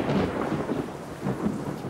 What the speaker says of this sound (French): la pluie se met à tomber